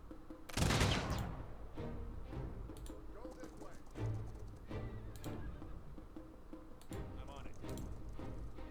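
Gunfire from units shooting in the strategy video game Humankind: a loud burst of volleyed shots near the start, then further softer cracks and booms scattered over a busy game soundscape.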